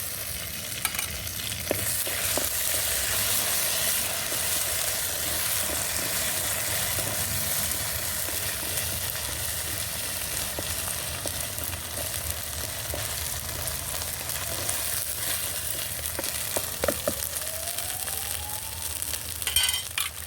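Masala spices fry in a pan for a stuffed brinjal curry, giving a steady sizzle broken by scraping stir strokes throughout, close up and with no talk.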